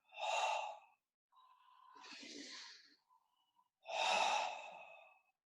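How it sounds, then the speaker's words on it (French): Slow abdominal breaths during a yoga session: a deep inhale, a long soft exhale, then another full breath, close and quiet with no talking. "2 respirations abdominales"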